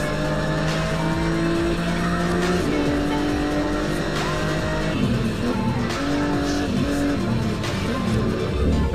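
A BMW E46 driven hard in the racing game Test Drive Unlimited, engine tones climbing and dropping through gear changes with tire squeal and skidding, loud and continuous without speech.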